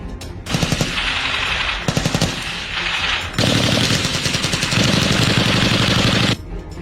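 Heavy machine guns and other weapons firing during a military academy field exercise at Hathazari, Chattogram, long loud continuous bursts with short pauses between them.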